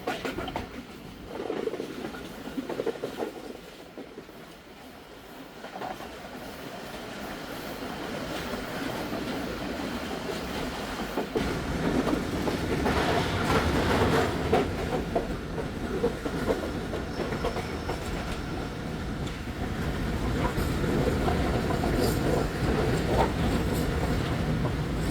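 A passenger train running between Rohri and Hyderabad in Pakistan, heard from on board as a low rumble and clatter of wheels that grows louder and rougher partway through and stays steady to the end.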